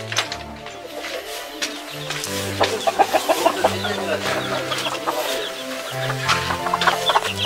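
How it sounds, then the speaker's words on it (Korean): Chickens cluck steadily in a rural coop next to a country house, several birds overlapping in close, busy bursts with a faint voice in the background. "요 닭장입니다, 닭장."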